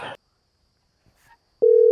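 A phone call tone sounds on a mobile phone, starting abruptly near the end as a loud, steady, unbroken electronic tone after a short burst of voice and near silence.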